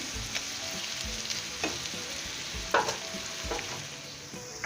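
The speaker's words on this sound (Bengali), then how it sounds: "পেঁয়াজের সাথে সাথে আমি এলাচ দারুচিনি তেজপাতা এগুলো সবগুলো একসাথে একটু ব্রাউন কালার করে নিব" Onions with cardamom, cinnamon and bay leaf sizzle in hot oil while being browned, a continuous crackle with several scraping stirs of a spoon against the pan.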